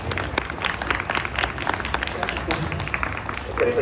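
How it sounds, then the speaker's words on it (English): A panel audience at VidCon US 2022 breaks into dense, continuous applause, many hands clapping at once for the whole span, with a voice speaking briefly over it near the end. "Please give a round of applause for ChannelMeter"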